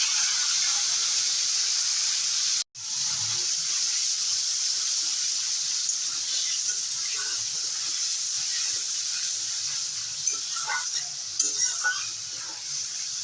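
Water hits a hot pan of spice paste, with ginger, cumin, coriander, chili and turmeric, and sets off a steady bright hiss and sizzle. After a brief cut the hiss carries on with soft bubbling and stirring, close and continuous, with no talk.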